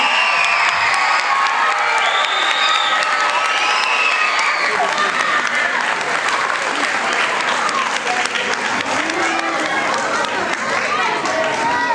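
Loud, sustained crowd applause and cheering at a 5th grade graduation, with whoops and children's shouts mixed into a continuous roar that holds throughout.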